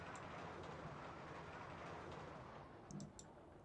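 A roller coaster train in the game RollerCoaster Tycoon rattles along its track with a continuous, quiet clickety-clack, and a few light clicks come near the end.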